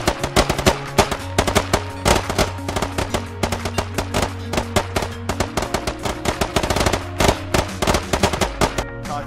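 Sustained automatic machine gun fire in the video game Squad during a military operation event, loud rapid bursts with no lull, overlapping shots from several weapons.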